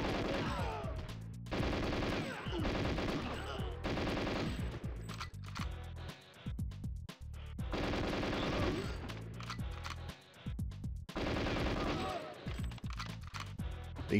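Automatic gunfire rips through guards in the video game GoldenEye 007, coming in long rapid bursts separated by brief pauses, loud and close, with talk faintly underneath.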